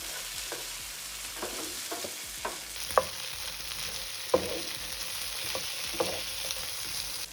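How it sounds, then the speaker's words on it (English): Tomatoes, potatoes and onions frying together in a pan, stirred with a spoon that taps and scrapes in irregular knocks over a soft continuous sizzle that brightens and hisses more in the second half. "Now that our tomatoes are done, we're going to add them into our potatoes and onions. Then we're going to give everything a nice mix"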